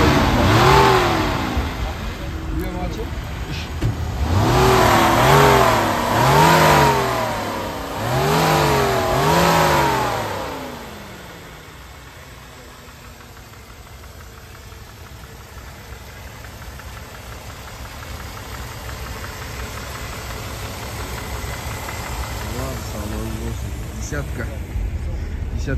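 A 1991 Toyota Camry with a 3-litre engine, examined at a car market in Almaty, revs up strongly in three or four rising surges, then drops to a low, steady idle, with people talking close by.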